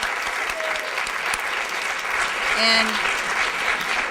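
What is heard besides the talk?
applause for Jim Slaughter at an awards ceremony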